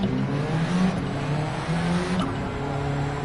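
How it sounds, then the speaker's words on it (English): K20 engine-swapped Honda in a Gran Turismo 7 race game, revving hard with tires spinning, a steady loud engine drone whose pitch rises and dips over constant tire noise, no voices. "You can hear it's just ripping through the tires"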